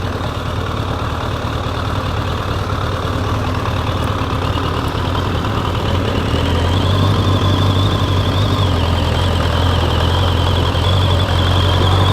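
Vintage race cars roar around a racetrack during a vintage racing event, a steady loud engine drone running throughout with no talk.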